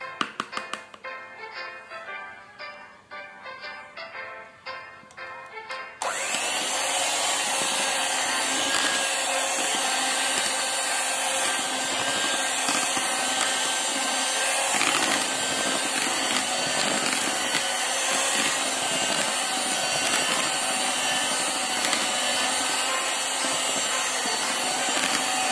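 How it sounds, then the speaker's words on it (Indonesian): Electric hand mixer beating cake batter mixed with liquid milk, a steady loud whirring drone that starts abruptly after a few seconds of lighter tapping and continues unbroken to the end. "Kemudian ini kita mixer sebentar saja ya teman-teman."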